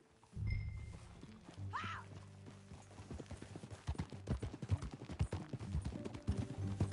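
Rhythmic clip-clop of horse hooves in Red Dead Redemption 2 growing busier and louder, with a brief animal call early on and ambient game-like background.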